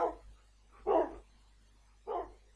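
Wolf barks from the Minecraft video game, three separate short barks spaced about a second apart, moderately loud and close, with no talk over them.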